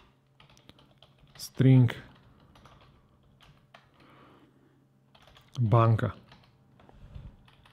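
A computer keyboard clicks in light, scattered bursts while code is typed, quiet and close, with someone speaking briefly over it twice.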